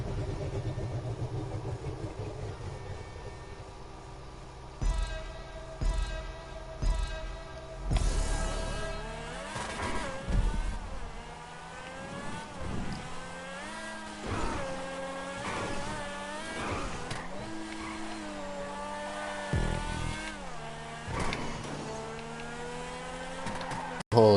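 In Grand Theft Auto V, an Overflod Tyrant supercar idles, then revs and accelerates hard through rising, falling gear changes, loud and close.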